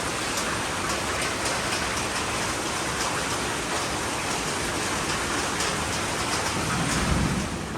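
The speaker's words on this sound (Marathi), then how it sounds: "पाऊस चालू झाला आहे फायनली." Steady, dense rain pouring down continuously with a broad hiss, and a low rumble of thunder swelling near the end; no voices.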